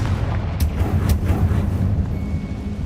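A Confringo fire spell cast in the Hogwarts Legacy game erupts as a deep rumbling blast, with sharp crackling bursts near the start and a steady roaring low end that holds for about three seconds.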